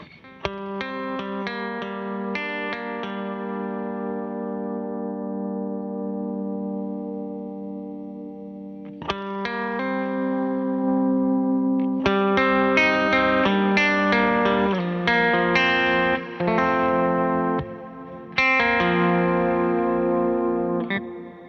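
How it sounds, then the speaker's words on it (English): Electric guitar played through a Meris Mercury X reverb pedal with its compressor set pre-dry, sustained chords ringing out with lush reverb tails, a pause and then a series of struck chords swelling with shimmering, washy ambience. "it's actually compressing the dry guitar signal as well"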